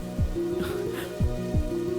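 Rain falls in a dramatic film scene, a steady wash of hiss under loud music with deep swooping bass hits, with no talking.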